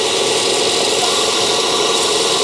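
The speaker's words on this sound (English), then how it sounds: "we're going to just let the sander sort of" A sander rounds out holes in a camera mount, producing a steady, loud, close whirring buzz with an even grinding texture throughout and no speech.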